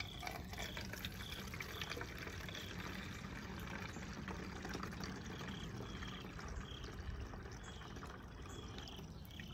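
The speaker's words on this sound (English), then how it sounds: "I've got my bottle filled there" Apple juice and cider vinegar pour steadily into a spray bottle, a continuous close liquid trickle and splash that holds at an even level throughout, with no voices.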